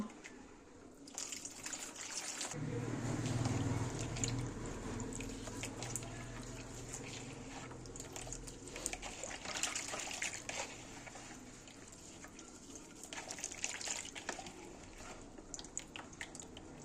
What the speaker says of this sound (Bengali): পুদিনা পাতাগুলো ভালো করে ধুয়ে নেব।